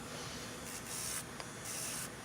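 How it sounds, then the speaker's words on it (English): A buffing block rubbed over an acrylic overlay on natural nails, making soft, faint, scratchy strokes in a few short bursts over quiet background hiss. "I'm going to buff with the buffing block."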